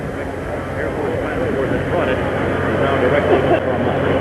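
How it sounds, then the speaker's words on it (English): Official US presidential jet arriving at Dallas on a beautiful day, a steady broadband engine roar that swells slightly as it approaches, heard from a distance over a crowd's murmur. "That's a jet. That's an official jet."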